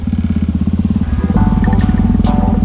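Motorcycle engine close by and loud on a mountain road, a steady rhythmic throb that rises in pitch as the rider accelerates, with a couple of brief higher scrapes or squeaks near the end.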